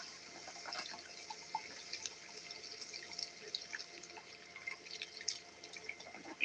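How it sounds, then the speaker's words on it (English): Water is poured into a pan of ground sausage, giving a faint, steady trickle with scattered drips and small splashes, quiet and fairly distant, with no talk over it. "throw in a little water"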